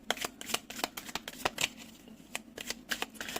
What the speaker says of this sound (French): Je vais poser les 7 cartes.